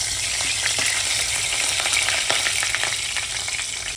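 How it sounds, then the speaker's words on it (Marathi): Cumin, asafoetida and bay leaf sizzle and crackle steadily in hot oil as the base for mutton kurma, a loud, continuous close-up frying hiss with no talk. "हे मसाले कडकडले. आता चांगले कडकडले गेले."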